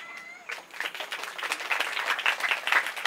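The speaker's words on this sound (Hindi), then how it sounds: "लेकिन माता जी ने आप लोगों से 4 बोल दिया है ना, तो इनके लिए ताली बजना चाहिए।" Audience at a live Bhagavat katha religious discourse in Jamui clapping in response to the preacher, a dense burst of hand claps building and continuing steadily without a break, with no one speaking over it.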